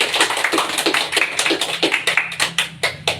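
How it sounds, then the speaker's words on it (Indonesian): A small group in a school group-counselling session gives Rohit a round of applause: a short burst of brisk, closely spaced hand claps, fairly loud and near, with no talking over it. "Beri aplaus pada Rohit."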